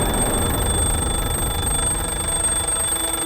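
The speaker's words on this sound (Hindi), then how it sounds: "बेड साइड टेबल पर रखा हुआ वो अलार्म क्लॉक। आप तो जानते ही हैं कि 4 और 5 के बीच व्यक्ति एकदम घनिष्ठ निद्रा में होता है। अलार्म बजा," Bedside alarm clock ringing continuously, a steady high-pitched electronic tone held over a dense background hiss.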